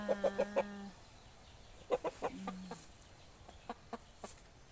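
Laying hens cluck in short bursts, a quick run of four clucks, then pauses and scattered single clucks, fairly close with a low background hum.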